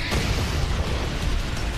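A loud, sustained explosion effect from an anime fight between Teruki Hanazawa and Ryo Shimazaki in Mob Psycho 100, a dense rumbling blast that fills the whole stretch without talking.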